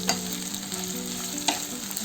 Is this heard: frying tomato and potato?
yes